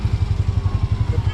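Motorcycle engine running outdoors at a rural farm, a steady low pulsing throb with rhythmic chugging close by, and voices faintly audible underneath.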